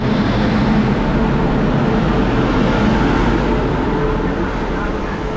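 Howrah–Purulia passenger train via Masagram rolling along on its first day, a steady, loud broadband rumble and rattle of the coach throughout with no break.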